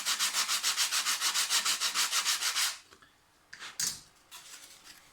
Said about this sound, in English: Just going to straighten it up with the sanding block.